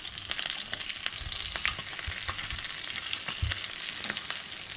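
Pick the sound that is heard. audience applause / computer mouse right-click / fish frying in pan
fish frying in pan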